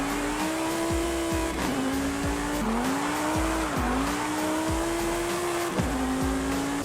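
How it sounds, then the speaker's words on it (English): A Lamborghini Huracán STO's V10 screams through gear after gear while racing in Forza Horizon 5. The pitch climbs and drops sharply at each shift, with tire squeal mixed in, loud and steady with no talk. "Just listen to that V10."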